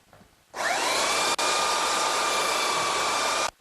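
Electric sander running over oak wood to hide small gaps in a medicine cabinet, switching on abruptly into a loud, steady high whine that holds for about three seconds with one brief dip before cutting off.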